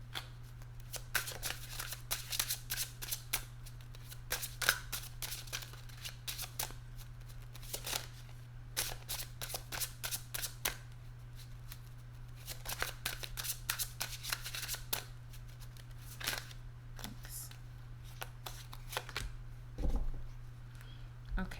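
Tarot cards are shuffled by hand in rapid, crisp riffling bursts repeated over and over, close and clear above a steady low hum, with a voice speaking briefly near the end.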